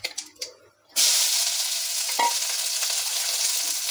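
Panch phoron spices drop into hot mustard oil and burst into a loud, close sizzle after some quiet rustling, then crackle on steadily with a brief utensil knock.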